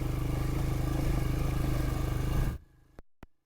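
A Royal Enfield Himalayan motorcycle engine runs loud and close under throttle, a steady pulsing drone that cuts off abruptly, followed by a couple of faint knocks.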